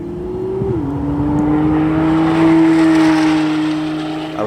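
At a drag meet in India, a supercar launches hard off the line, its engine note jumping then holding a steady high roar that swells louder before easing, heard alone without talk.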